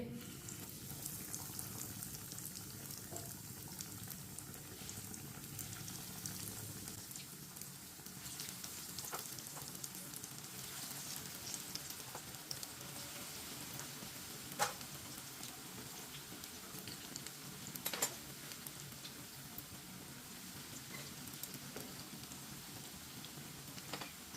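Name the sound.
bread pieces frying in hot oil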